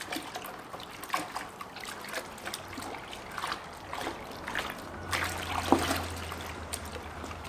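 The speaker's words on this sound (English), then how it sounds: "We're going to put it right in the water here. Then I'm going to come in here and I'm going to mix this up." Water swirls and trickles in a Lake Country System 4000 pad washer bucket as pad cleanser is mixed in by hand, with soft splashing and irregular sloshes throughout.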